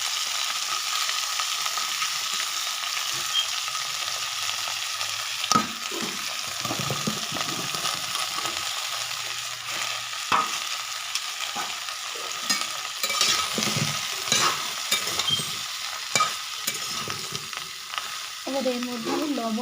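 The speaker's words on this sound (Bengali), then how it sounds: "লবণ আর হলুদ দিয়ে আমি সবজিগুলোকে ভেজে নিয়েছি" Potato and cabbage pieces fry in a pan with salt and turmeric for khichuri, a continuous close sizzle broken by repeated scraping stir strokes and occasional clinks, with no voices.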